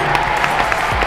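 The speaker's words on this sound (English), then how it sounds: "a big round of applause for all of our superheroes on this panel" Brief burst of audience applause at a large Islamic convention panel, a dense steady patter of many hands filling the whole moment with no clear gaps.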